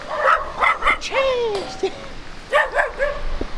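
Small dogs bark and yip in quick bursts with a whining, rising whimper between, close by, while a person speaks a brief greeting over them.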